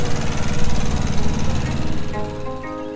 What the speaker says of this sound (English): This tractor is an absolute legend.